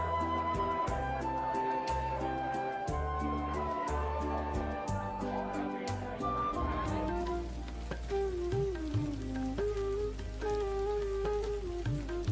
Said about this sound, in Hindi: आज बारिश हो रही है